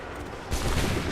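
Soldiers open fire in Assassin's Creed 3, a sudden loud volley of musket shots crackling in over a rumbling battlefield background.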